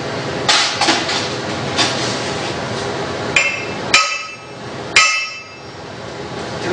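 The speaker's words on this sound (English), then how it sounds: "So I'll take my hammer. I'll just go ahead and secure that bottom." A hammer strikes a metal bottom piece to drive it into place before welding. Several sharp, ringing metallic hits land close by in an irregular rhythm over a steady background hum.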